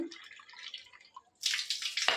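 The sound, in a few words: bore connection water filling a cup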